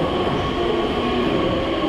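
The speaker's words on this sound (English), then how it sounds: "The train is here." Beijing subway Line 14 train arriving at a station, a loud steady rumble and hum of the moving cars with no talking.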